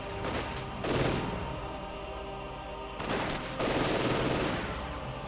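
Gunfire from a Company of Heroes 2 battle between grenadiers and Soviet infantry, with two loud sustained bursts of rattling fire separated by a quieter lull, dense and close.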